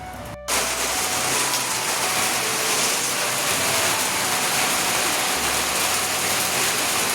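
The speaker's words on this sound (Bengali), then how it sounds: "এদিকে রান্না হতে হতেই দেখো চলে আসলো মুষলধারে বৃষ্টি" Heavy monsoon rain pours down steadily during outdoor cooking, a dense continuous rushing hiss that starts abruptly after a brief pause and stays loud and even throughout, with no voices.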